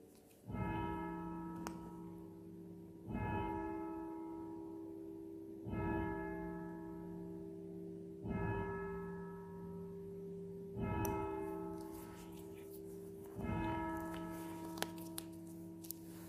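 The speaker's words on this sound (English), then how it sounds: "We'll wait for the bells." A single church bell tolls slowly for evening prayer, six evenly spaced strikes roughly two and a half seconds apart, each ringing out with a long shimmering decay, heard clearly with no talking.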